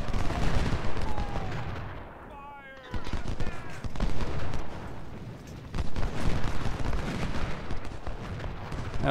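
Artillery and musket fire from a Civil War battle in the strategy game Ultimate General: Civil War, a dense roll of booming shots and crackling gunfire, loud and continuous with a short lull partway through.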